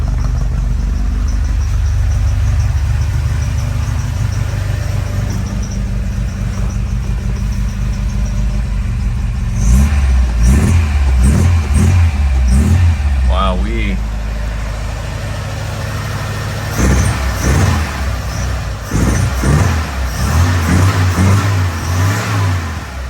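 Restored 1967 Volvo Amazon wagon on a cold start, its engine idling steadily before several sharp revs rise and fall, loud and close, with people talking over it.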